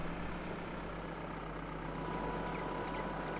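A tractor engine idles in the Landwirtschafts-Simulator farming game, a steady low rumble with a constant hum, quiet and unchanging throughout, with no talking.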